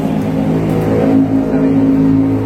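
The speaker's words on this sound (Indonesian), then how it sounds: "sorry suara motor" A motorcycle engine running close by, a loud steady hum with slight rises in pitch as it revs, no one speaking.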